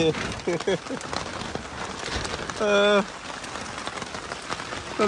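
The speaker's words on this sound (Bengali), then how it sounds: "বাইরে প্রচুর বৃষ্টি হচ্ছে" Heavy rain pouring outside, heard from inside a boat in a flooded village, as a steady dense patter that runs throughout, with people talking over it and a brief bird-like call midway.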